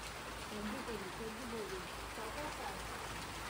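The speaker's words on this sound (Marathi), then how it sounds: "पाऊस आला." Steady rain falls outdoors in a village, a continuous dense hiss at an even level throughout, with voices faintly audible beneath it.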